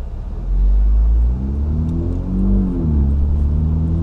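A Mini John Cooper Works GP3 driven in manual shift mode, its engine rumbling loudly and revving up and down in two strong surges under steady road noise.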